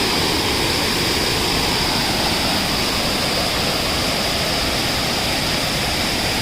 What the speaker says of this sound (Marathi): हे सावडावचा वॉटरफॉल.